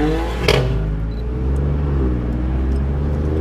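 Alfa Romeo Giulia Quadrifoglio on winter tyres accelerating on a dual carriageway, a steady loud engine drone and road rumble heard from inside the cabin, with a brief sharp knock near the start.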